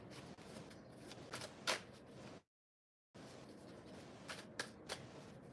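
Tarot cards riffled and shuffled in quick bursts of soft papery flutter, close and moderately loud, broken by a short silent gap before the shuffling resumes.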